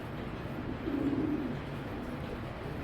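Racing pigeons cooing at a pigeon farm, a low soft coo rising briefly near the middle over a steady murmur of background noise, fairly close but faint.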